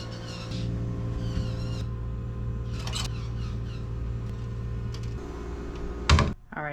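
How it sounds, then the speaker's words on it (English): Someone doing their nails indoors, with steady small clicking and scraping close by over a constant low hum, ending in a brief louder knock. "if you hear some weird noise in the background, my mom's doing her nails, so that's what that is."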